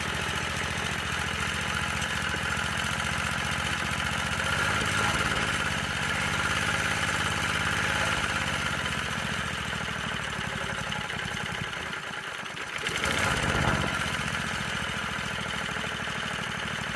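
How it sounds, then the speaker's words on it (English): A Manco mini bike's small engine idles just after its first start in two years, a steady near chugging putter that dips briefly before settling back into a continuous idle, with no voices. "See if I can get it to idle."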